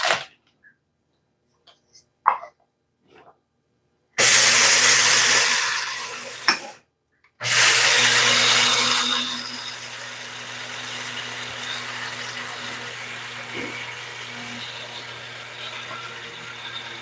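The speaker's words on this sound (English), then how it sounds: "So I'm just going to grind this up real quick right now." Electric grinder grinding flaxseed for baking, two loud whirring bursts with a brief stop between, then the motor winding down, after a few quiet handling clicks at the start.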